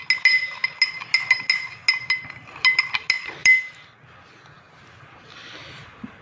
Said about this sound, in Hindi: अब आपने इसका पेस्ट बना लेना है, ऐसे ऐसे ऐसे मिक्स कर लेना है इसको अच्छी तरह